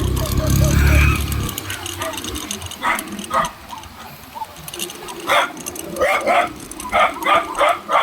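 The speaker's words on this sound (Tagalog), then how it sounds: "Daming aso oh." Several dogs bark in short, repeated bursts at moderate distance, becoming more frequent toward the end, over a low rumble and outdoor noise.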